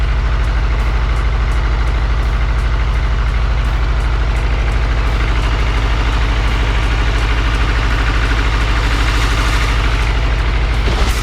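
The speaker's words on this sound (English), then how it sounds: "it looks like we got a misfire." A supercharged Honda Integra idles loudly up close with a misfire, its steady low rumble broken by regular uneven pulses and stumbles throughout.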